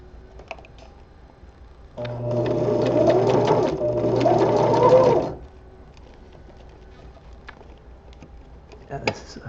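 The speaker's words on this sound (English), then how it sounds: "I'm going to sew over a bunch of fabric that I didn't intend to sew over" A sewing machine stitches through thick, tough layers of spandex fabric for gloves, a loud rapid mechanical run of about three seconds between quieter stretches of room noise.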